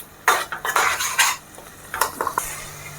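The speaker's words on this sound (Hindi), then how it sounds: "बस साथ ही साथ बीच बीच में चलाते रहना है" A spatula scrapes through masala frying with tomatoes in a pan for chole, giving several quick, close stirring strokes over a faint sizzle.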